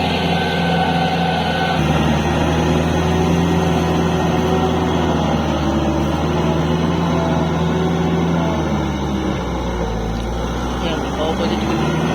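A Kubota L4503 tractor pulling a 5-foot rotavator through a paddy field drones with a steady, loud engine rumble that shifts slightly in pitch, while someone talks over it.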